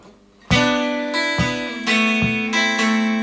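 Guitar plays a song part, with loud, bright chords struck one after another in a steady rhythm, each ringing into the next, close and solo.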